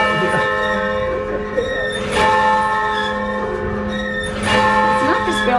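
A church bell rings in a steeple in Basel, Switzerland, with long sustained resonant tones and struck peals recurring about every two seconds, loud and nearby.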